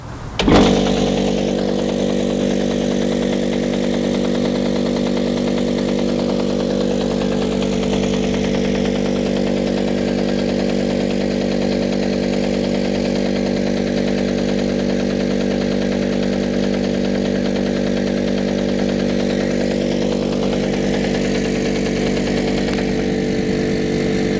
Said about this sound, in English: by turning the machine on, it'll just pump everything out.